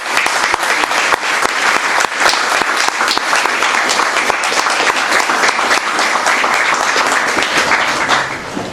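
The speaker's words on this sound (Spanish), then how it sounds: "pediría que le diéramos un aplauso porque es una compañera" Audience applause for a speaker at a Tlatelolco 1968 lecture: dense, steady clapping from a full room that fills the whole span at constant loudness, with no talk over it.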